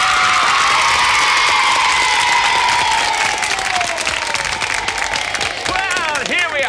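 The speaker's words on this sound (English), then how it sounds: "let's give a good round of applause there to Jackie and Wayne." Audience clapping, loud and continuous, with whoops and cheers mixed in, carrying on evenly from start to finish.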